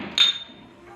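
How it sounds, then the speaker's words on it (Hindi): A hammer strikes once to knock the cotter pin out of a bicycle bottom bracket, giving a single sharp metallic clink close by with a short ring, then quiet. "अब इसके बाद हथौड़ी मार के इसको निकालूंगा।"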